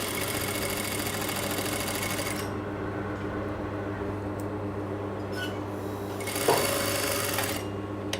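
A sewing machine stitches a straight facing, its steady motor hum running continuously and close throughout, easing slightly partway with a brief clack near the end, with no talking.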